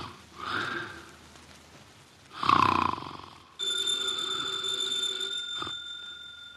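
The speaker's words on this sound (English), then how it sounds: "His eyes are closed, and he's making sounds through his nose." Two short nasal snores rise and fall, the second louder, then a telephone bell starts ringing steadily.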